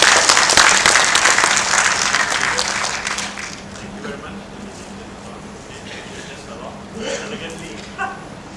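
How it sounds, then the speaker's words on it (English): Loud applause rises from the audience at a 5G technology talk and Q&A session, then thins and fades after about three seconds, leaving scattered claps, a few whoops and people talking. "I really hope you can give a warm applause for this group"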